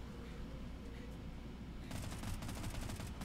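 SMG fire in the shooter game Hellbreach: Vegas, heard as a faint, rapid automatic burst that begins partway through over a steady low background rumble, distant and muffled rather than crisp.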